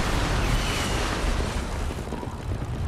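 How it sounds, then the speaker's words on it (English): Rumbling airstrike explosions in the video game Fortnite, a dense, loud, continuous roar of blasts filling the short stretch without clear gaps, with no talk over it. "Oh no! It's the airstrikes."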